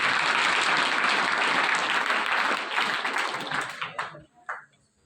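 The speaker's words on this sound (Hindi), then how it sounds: "तालियां एक बार" Audience applause at a school farewell ceremony: a dense, loud burst of clapping that holds steady for several seconds, then thins into scattered claps and fades out.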